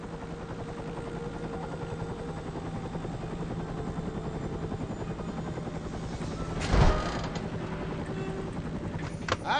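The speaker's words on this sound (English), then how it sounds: "I'm sending a chopper." Helicopter in the video game Stranglehold, a loud, steady rotor chop with creaking mechanical rattles throughout, swelling into a sharp burst near the end.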